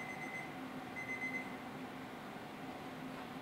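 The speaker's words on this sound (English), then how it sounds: "there's our timer" A lab timer alarm chirps in two short bursts of high repeating beeps, faint against a steady room hum, then stops and leaves only the background drone.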